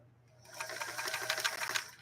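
A Singer 328K sewing machine runs a fancy stitch, its fast rhythmic needle clatter starting abruptly after a brief quiet moment and continuing steadily and close, with a faint low hum underneath.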